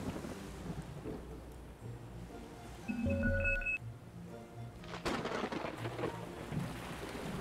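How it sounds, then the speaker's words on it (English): Rain, rolling thunder and turbulent water form the storm weather effects in the oil-drilling strategy game Drill Deal: Borehole, a steady rushing wash with a deeper rumble swelling in the middle and again near the end. "The waters have become turbulent. And there's rain and lightning."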